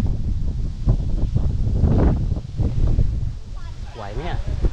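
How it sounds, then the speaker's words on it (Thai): Strong wind buffets the microphone in an open market area, roaring and gusting loudly throughout, while people talk over it. "โอ้มาเก็ตนี้ลมแรงมากนะครับเป็นพื้นที่แบบโล่งอะนะครับ"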